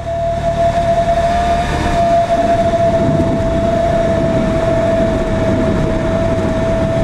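A Cessna 172 glides in to land with the throttle at idle, a steady cabin drone with a constant tonal hum and broadband rumble throughout, loud and unbroken.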